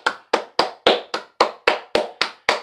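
One person clapping hands alone, ten sharp, close claps at a slow, steady rhythm.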